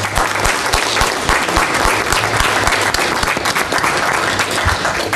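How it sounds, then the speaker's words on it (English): Loud, sustained applause from a crowd at a county board meeting, steady clapping filling the whole stretch without a break. "I think he deserves a round of applause."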